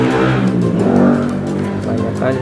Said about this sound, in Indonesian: banyak aja suara motor ya.